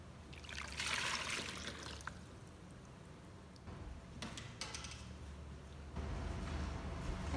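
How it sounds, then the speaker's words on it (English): Three cups of warm water poured into salt while making pork tenderloin, a steady close trickle and splash running continuously with no talking. "I'm gonna pour in the 3 cups of warm water"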